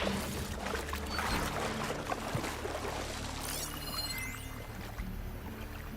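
Water flowing through a flooded facility in the video game Horizon Forbidden West, a steady broadband rush that stays fairly loud throughout with no talk, joined near the end by brief synthetic game tones.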